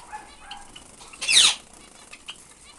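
Small finches, including star finches, splash and flap their wings in a bath, with one brief loud burst of flapping in the middle and faint chirps and rustles around it.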